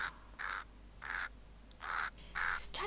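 A raven gives four harsh, evenly spaced caws, fairly quiet, over a low steady hum.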